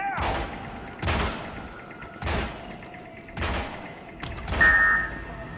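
Gunfire from the video game Hitman (2016) comes in about five evenly spaced sharp shots, each followed by a brief mechanical ring.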